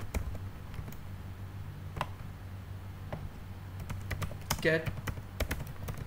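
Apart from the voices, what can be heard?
typing code on a computer keyboard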